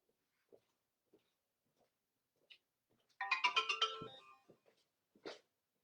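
A mobile phone ringtone plays a short melodic burst of about a second, fairly loud and close, then a faint chirp follows amid quiet room sounds before a conference talk.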